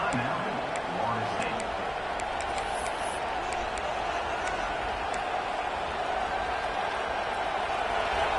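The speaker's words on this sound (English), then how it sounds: "the crowd really making some noise now" A big crowd in the College Football 26 video game roars steadily throughout, a dense continuous wash of cheering with a few faint whistles, heard at a distance and holding level.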